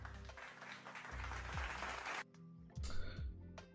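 Applause during a live forex trading session, a steady wash of clapping for about two seconds that cuts off abruptly, followed by quieter scattered sounds.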